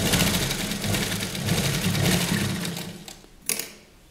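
A sewing machine stitches cotton fabric for a kurti in a fast, steady mechanical whirr, close and fairly loud, then stops abruptly with a final click.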